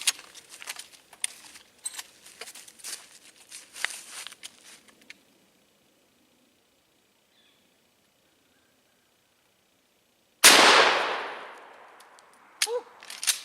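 A Mossberg 500 shotgun fires a 1-ounce slug at homemade armor, one loud close blast with a long decaying tail. Quieter clatter and shuffling come before it, and a few faint knocks follow.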